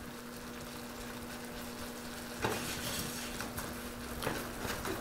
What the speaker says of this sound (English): Want to let it simmer for about 1 or 2 minutes.